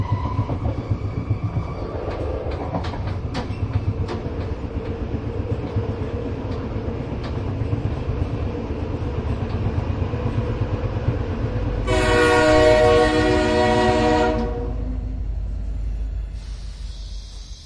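A passenger train rumbles along the rails at a steady clatter, used as a sound effect in a Bengali audio story. Partway through, a loud sustained horn blast sounds, then the rolling noise fades out.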